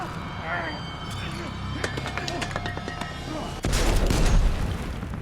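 Gunfire and an explosion in a The Walking Dead scene where Alden is caught in the blast: scattered sharp shots crackle under voices, then a loud, heavy boom bursts in near the end and keeps roaring.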